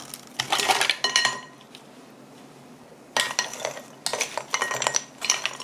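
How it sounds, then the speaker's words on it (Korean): Ice is stirred into a cold cucumber and seaweed soup, with clinking and rattling of ice and utensils against a bowl in short bursts separated by a quiet pause, close and without talk. "이렇게 잘 얼음하고 섞으세요."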